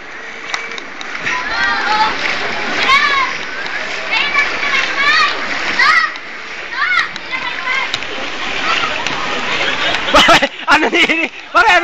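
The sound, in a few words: floodwater splashing and rushing in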